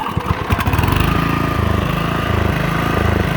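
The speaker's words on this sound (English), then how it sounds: "So when you start this mower, see if it's got anything left in it." An old Honda self-propelled lawn mower starts with a few sputters and then settles into a loud, close, steady putter of the small engine running with its blade not turning.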